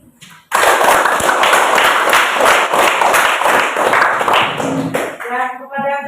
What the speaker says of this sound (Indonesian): mari kita beri aplaus terhadap kelompok 2 yang sudah mempresentasikan hasil kerjanya